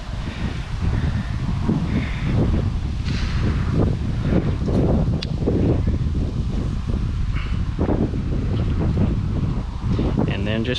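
Steady outdoor wind buffets the microphone while trout are cleaned by hand, a constant loud rushing roar throughout, with people talking over it.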